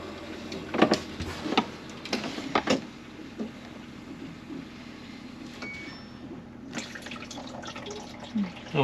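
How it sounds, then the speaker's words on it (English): An RV being winterized, with intermittent clunks and a faint running trickle of water dumping into an ice bucket, punctuated by louder knocks at moments, with no clear speech. "This time water will dump into the ice bucket."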